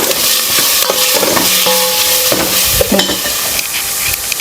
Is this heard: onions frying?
yes